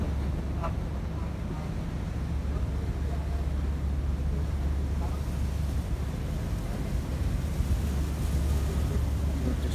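A passenger launch cruising on a river, heard as a steady low engine drone under constant wind and water noise, with a voice faintly present.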